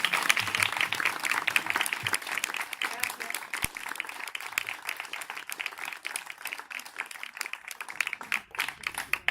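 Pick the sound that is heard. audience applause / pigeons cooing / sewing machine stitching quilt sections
audience applause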